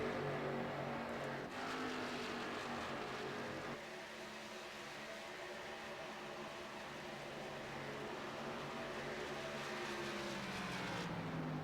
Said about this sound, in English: Yeah, you'd just hear the cars, Cindy.